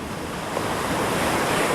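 Pacific Ocean surf and wind on the coast at Brookings, Oregon: a steady, loud broadband roar of breaking waves with wind rush, continuous throughout and with no talking.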